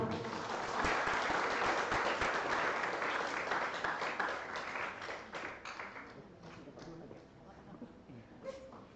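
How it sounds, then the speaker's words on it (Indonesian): An audience at a teacher training session in Papua breaks into sustained applause, dense clapping at first that gradually thins and fades toward the end, with some murmuring voices underneath. "Boleh tepuk tangan teman-teman."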